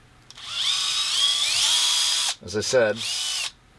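High whine of a power drill opening a hole out from 2.5 to 3 mm during fabrication work on an RC crawler chassis, a steady close run, a short pause while someone speaks, then a brief second burst.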